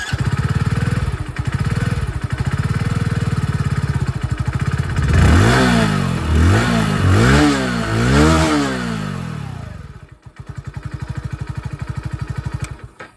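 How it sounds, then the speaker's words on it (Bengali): A 2025 Hero HF Deluxe Pro 100cc motorcycle idles with a close, even exhaust putter, then gets four quick throttle blips that rise and fall before it settles back to idle. "চলুন তবে এক্সস্ট সাউন্ডটা আপনাদের শুনিয়ে দিই।"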